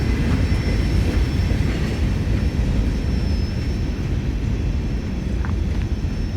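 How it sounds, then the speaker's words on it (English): A freight train rolls slowly into a siding at night in Bushnell, Florida, a steady low rumble filling the whole stretch, with a faint high whine running through it and no voices. "As Q604 rolls into the siding, slowly coming to a stop"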